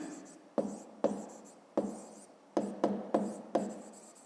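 A pen scratches across paper while a maths exercise is written out by hand, in short, quiet strokes roughly every half second, close by and with no talk.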